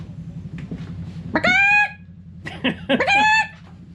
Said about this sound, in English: Chicken? Is that real?